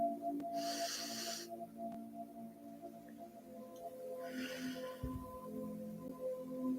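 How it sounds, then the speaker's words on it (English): A slow, deep inhalation through the nose during a guided relaxation, rising in two soft, airy swells a few seconds apart over a steady low hum, close and moderately quiet. "take 3 deep breaths with me"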